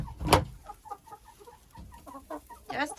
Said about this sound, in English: Just a bunch of chickens hiding in the corner.